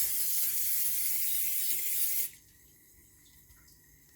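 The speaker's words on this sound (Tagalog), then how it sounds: "before putting your cake on the molder, you should spray it with" Cooking spray hisses onto a cake mold in one steady, close spray lasting about two seconds before cutting off abruptly, leaving quiet room tone.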